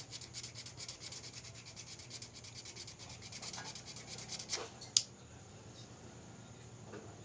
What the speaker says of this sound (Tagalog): Ngayon itong bakal na bilog, iipit natin dito sa liha. Magliliha pa rin tayo.